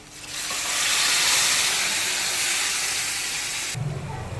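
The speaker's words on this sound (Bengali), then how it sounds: "আমি এখানে গরম জলটা দিয়ে দেবো" Hot water hits a hot pan of fried jackfruit for a Bengali curry, giving off a loud, steady steam hiss that swells quickly and then stops sharply, followed by a brief low rumble.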